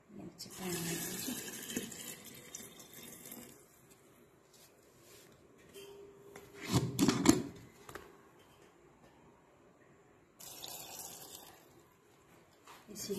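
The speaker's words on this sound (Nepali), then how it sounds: "यसरी गरेर यहाँ चाहिँ पानी हाल्छु।" Water runs from a tap into a glass jar of Nepali chilli pickle in short bursts, a gentle splashing trickle that swells briefly into a louder gurgle in the middle, with quiet pauses between.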